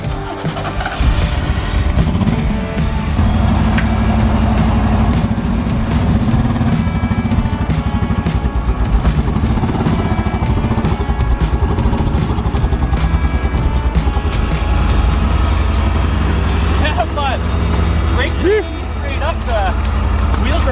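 A Pontiac Fiero kit car, abandoned for years with seized brakes, is rolled outside for the first time in five years, a loud steady rumble of machinery and grinding motion running throughout with people talking over it.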